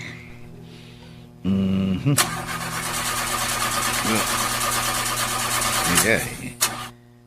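A car engine cranks repeatedly without catching because it has no gasoline, a loud close grinding whir in several bursts, with a brief voice and some clatter at the end.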